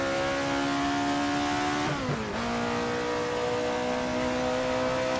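An Alfa Romeo 33 Stradale racing engine drones loud and steady through Parabolica in the Assetto Corsa racing game. The pitch dips briefly as the throttle eases, then settles back into a sustained roar.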